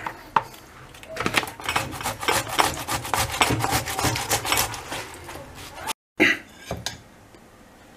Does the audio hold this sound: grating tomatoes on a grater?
yes